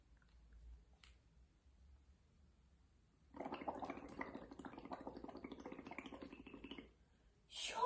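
Water bubbling through a straw in a children's nature lesson, a steady gurgling burble of about three and a half seconds after a quiet start, moderately close.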